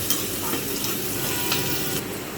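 Green chilies frying in hot oil for a yogurt chutney tempering, a dense continuous sizzle and hiss, close and steady across the brief moment, with no talking.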